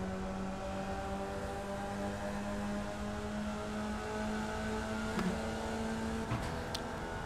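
Formula Vee race car engine in the iRacing sim at Okayama, a steady droning engine note held throughout with a small rise near the end, continuous and fairly quiet, no talking.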